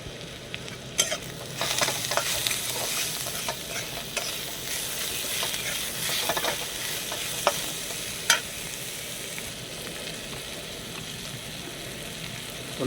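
Spices being stirred and fried in a pan for a pangas fish and potato curry: a steady close sizzle with repeated scraping stirs and a few sharp clicks, with no talking.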